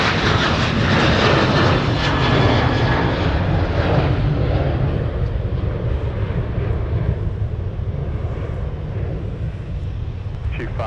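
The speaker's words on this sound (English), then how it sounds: "Sun Country 737, taxiing on 22." A Sun Country Boeing 737 jet taxiing at Minneapolis–St. Paul airport, a loud continuous engine rumble and whine that slowly eases off over the stretch, with faint radio chatter in the mix.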